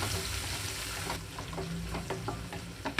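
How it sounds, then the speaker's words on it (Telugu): Sliced onions and curry leaves fry in a pan on a low flame, a steady close sizzle broken by a few scraping stirs and light clicks, with no speech. "ఉల్లిపాయలు కొంచెం దూరగా వేయాలి లో ఫ్లేమ్లోనే ఉంచి వేయించుకుంటున్నాను"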